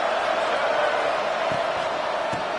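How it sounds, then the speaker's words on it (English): Steady roaring crowd noise fills a college football stadium at Virginia Tech in the College Football 26 video game, a continuous dense din with a couple of faint low thumps and no clear speech. "It's early, but this crowd is fired up. Listen to this noise here."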